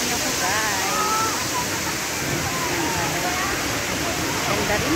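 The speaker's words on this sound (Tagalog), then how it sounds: "Nandito tayo sa Mahugan Falls Dam ng Ilocos Norte." Waterfall at Madungan Dam in Ilocos Norte, a steady, loud broadband rush of falling water that fills the whole clip, with faint voices partly buried beneath it.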